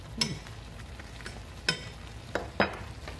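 Apple fried pies sizzling in a pan, a steady soft crackle broken by four sharp spatters and clinks of turning them, fairly quiet and close with no talk.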